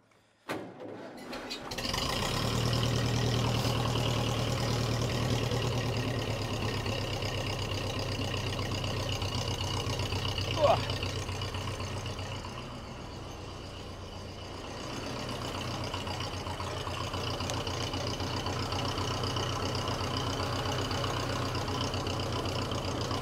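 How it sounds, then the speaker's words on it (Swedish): A Massey Ferguson TE20 (Grålle) tractor engine catches and then idles steadily, a constant low rumble for a long stretch, with a brief sharp noise partway through. "tanken är nu att vi ska starta traktorn"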